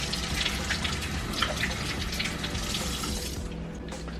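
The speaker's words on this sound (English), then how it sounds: "So I'm gonna rinse my hands" Tap water runs steadily into a kitchen sink as hands are rinsed under it, a continuous close splashing gush that thins out near the end, with no talking.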